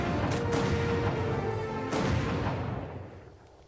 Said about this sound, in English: I do like the gunshot sound effects though.